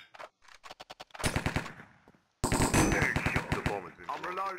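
Gunfire in a Minecraft CSGO mini game: bursts of rapid automatic shots, some sharp single cracks, heard close and loud, mixed with players talking.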